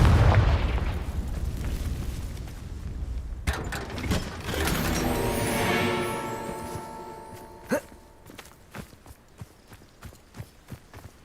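A Confringo fire spell in Hogwarts Legacy bursts with a loud, dense explosive roar that swells and then fades, followed by a scattering of sharp crackling pops and debris clatters as the blast dies away.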